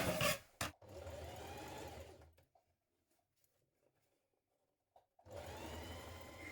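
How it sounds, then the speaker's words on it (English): A sewing machine stitches a tiny hem on fabric for a scrap fabric basket, running in a loud close whir for about two seconds, going quiet with faint clicks, then starting again for a final burst. "I'm just going to do a tiny hem around the top of that one to the wrong side."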